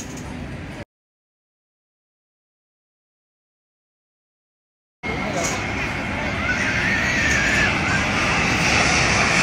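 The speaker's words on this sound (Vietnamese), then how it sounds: "Máy bay đã tới rồi." An airplane flies low overhead near a golf course, seen from a rooftop cafe. After a short burst of sound and a silent gap, a loud, steady engine roar builds and holds, with faint voices underneath.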